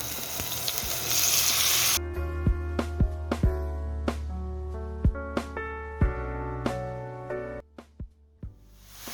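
Marinated chicken hits hot oil in a pan with a loud, dense sizzle for about two seconds, then gives way to a series of sharp metallic clinks and scrapes against a quieter frying background.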